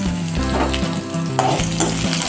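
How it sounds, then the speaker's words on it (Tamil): Long-sliced large onions sauté in a pan, a loud close sizzle with stirring scrapes over a steady tonal hum, no voices. "நல்லா வெங்காயம் லைட் ரோஸ் ஆகிற வரைக்கும் வதக்கிக்கோங்க"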